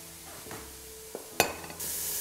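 Vegetables sweat in a soup pot, giving a soft sizzle with a few stirring scrapes and light clatters. One sharper knock sounds midway, and the hiss grows fuller toward the end.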